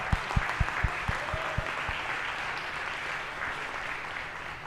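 Audience clapping for a team at a university pitch competition, a few sharp near claps at first, then a steady, moderately quiet wash of applause across the room.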